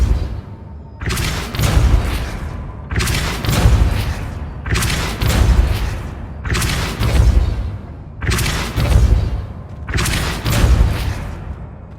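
The Depulso spell cast repeatedly in Hogwarts Legacy, seven heavy booming blasts at a steady pace of roughly one every 1.5 seconds, each loud and resonant with a short rumbling tail.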